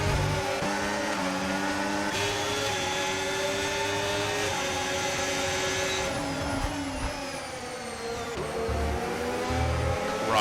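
Racing car engines roar continuously in a sim racing game, loud and sustained, with overlapping pitches shifting as several cars accelerate and change gear close together.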